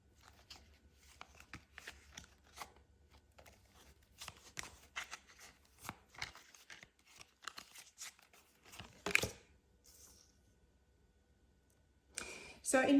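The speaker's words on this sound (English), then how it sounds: "This time I want you to just shuffle the deck as I've done, and just pull a card." A tarot card deck being shuffled up close: quiet, irregular riffling and soft flicking of cards with crisp clicks, growing busier toward the middle and ending in a louder burst.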